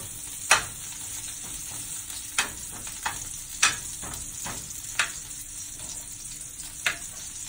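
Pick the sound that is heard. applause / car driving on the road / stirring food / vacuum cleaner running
stirring food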